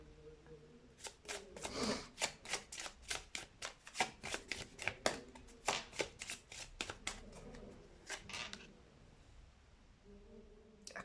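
Tarot cards are shuffled by hand in a long run of quick, crisp riffling flicks, close and fairly quiet, with a brief pause near the end.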